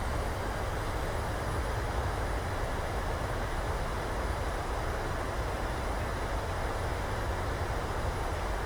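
Jet engine reverse thrust roaring just after touchdown of a Boeing 737-800 in the PMDG flight simulator, a steady, loud broadband rumble and whoosh sustained throughout with no talk over it.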